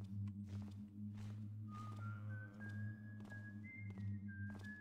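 An undead Hammerite whistles a slow rising tune in a Thief game level, steady mid-pitched notes over a constant low ambient drone with faint thuds.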